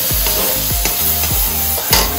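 Tomato puree is stirred into browning onions for rajma, a spoon scraping the pan in a steady rhythm of four or five strokes over a close, continuous sizzle.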